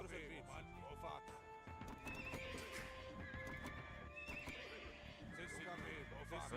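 A horse neighs in a video game, its whinny set among hoofbeat clip-clops and busy game sounds, with someone talking over much of it.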